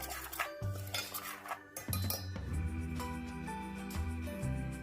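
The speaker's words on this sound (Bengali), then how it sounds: "এবার সব উপকরণগুলোকে একসাথে ভালো করে মিশিয়ে নেব" Rice flour batter ingredients with a pinch of salt are stirred together in a bowl, giving quiet clinking and scraping of a spoon against the bowl, close but faint and set against a soft musical background.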